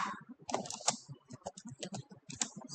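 Rapid, close keystrokes on a computer keyboard as a cargo L1X build command is typed, a quick uneven run of crisp clicks with no talking.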